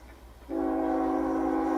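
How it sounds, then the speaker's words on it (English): A train horn sounds loud and steady after a brief lull, holding a sustained multi-tone chord from another train passing near a crossing where a long freight train is running. "That horn I heard was another train."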